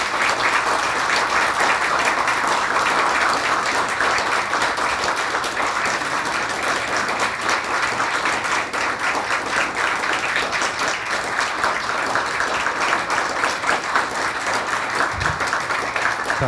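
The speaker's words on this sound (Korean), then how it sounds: "뜨거운 박수로 해주시면 감사하겠습니다." Warm, sustained applause from an audience at a university professor's farewell lecture and retirement festschrift presentation ceremony, a steady dense wash of many hands clapping close by with no talk over it.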